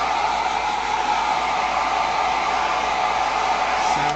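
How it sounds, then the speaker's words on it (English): A hair dryer blows steadily to dry paint on a gelli print, a loud continuous close whoosh that holds level for about four seconds before cutting off. "I'm gonna just hit it quickly with the hairdryer again because it was a little bit thicker in the middle there"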